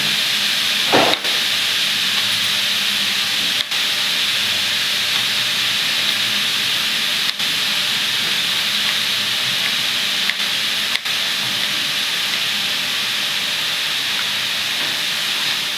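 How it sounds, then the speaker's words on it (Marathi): Onion sautéing in a pan, intended for matar anda bhurji, hisses loudly and steadily throughout, with a few faint clicks now and then and no talking. "आपला कांदा परतत आहे।"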